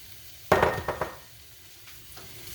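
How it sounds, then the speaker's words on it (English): A spoon scraping and knocking inside a pot as four tablespoons of flour are stirred into a broccoli cheddar vegetable soup with potatoes: a short burst of close scraping strokes, then a couple of fainter taps. "Keep stirring it."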